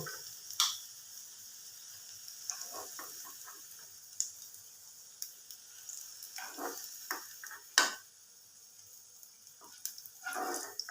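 Potato snacks fry in oil with a faint steady sizzle, broken by sporadic small crackles and pops and a few clicks from being turned.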